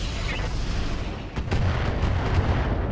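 Hellstorm artillery fires in the Roguetech mech combat game, a few booming blasts around the middle standing out from a dense, continuous rumble of battle.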